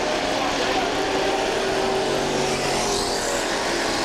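Pure stock race cars roar around the Kil-Kare Speedway oval during a feature race, a dense continuous engine drone with cars passing and accelerating, loud throughout.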